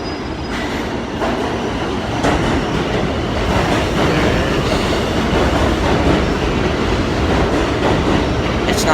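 New York subway train rolling into a station, a loud continuous rumble of wheels on rails with rhythmic clatter and brief squeals, no talking.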